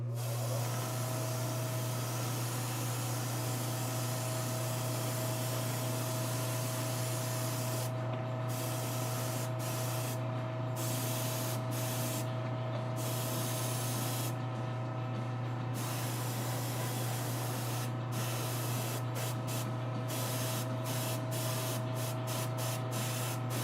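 An airbrush sprays black paint fed straight through the bottle at turned-down pressure, giving a steady, close hiss that runs continuously with a low hum beneath and a few brief breaks.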